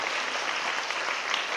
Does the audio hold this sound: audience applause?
yes